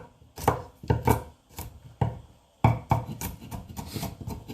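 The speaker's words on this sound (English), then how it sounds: "So I'm just gonna go ahead and chop this up." Knife chopping red chile on a cutting board, a series of sharp, close, uneven thuds in quick bursts with short pauses between them.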